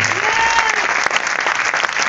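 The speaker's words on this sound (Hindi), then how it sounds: "एक बार जोरदार तालियां सुजीत जी के लिए" Loud, dense applause from an audience at an RCM meeting, steady crowd clapping filling the whole stretch after a speaker named Sujit finishes his talk.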